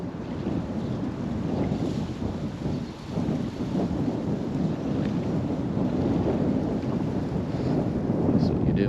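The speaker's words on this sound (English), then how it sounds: "That wind would just die down, it'd be good." Strong, cold early-spring wind gusting on a riverbank during catfishing, a loud continuous roaring buffet across the microphone with no break.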